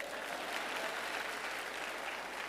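Applause from a church congregation, dense and steady, loud and close, lasting the full few seconds.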